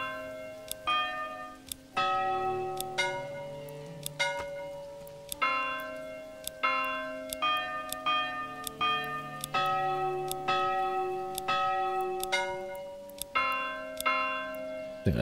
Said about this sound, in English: Church bell sound.